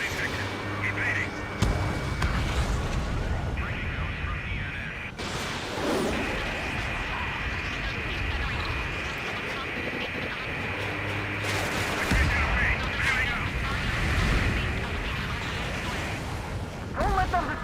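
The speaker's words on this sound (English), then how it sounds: "The harbor is under heavy fire!" Heavy gunfire and explosions pound a harbor in the Ace Combat 7 video game, with loud sustained booms, crashes and whooshing blasts running throughout, while voices talk over the battle.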